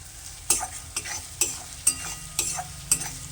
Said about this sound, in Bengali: এটা 1 মিনিটের মতো একটু কষিয়ে নেব।